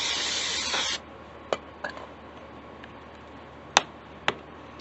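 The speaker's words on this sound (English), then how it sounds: "So I'm gonna spray some starter fluid" Starter fluid sprayed from a can onto a rain-soaked Huskee 140cc engine: one close hissing burst of about a second, followed by quiet with a few sharp ticks and clicks.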